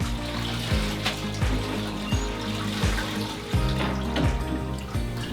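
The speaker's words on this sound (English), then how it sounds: "So first thing I'm going to do is wet the floor a little bit." Water splashes and trickles as a resilient floor is wetted before restorative maintenance, a loud close wash of running and sloshing water in repeated pulses, with no talking.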